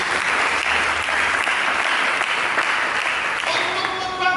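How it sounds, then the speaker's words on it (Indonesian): Church congregation applauding during a sermon, a dense, steady wash of clapping from many hands that holds at even loudness throughout, with a voice surfacing briefly near the end. "Mari kita berikan tepuk tangan bagi Yesus"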